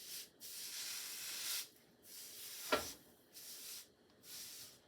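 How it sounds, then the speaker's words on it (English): A cloth or scraper wipes crumbs across a flat griddle in several rhythmic passes, a soft rasping hiss repeating in strokes with brief pauses between, close and fairly quiet. "I'm just going to wipe these crumbs off. I don't want them to start to burn."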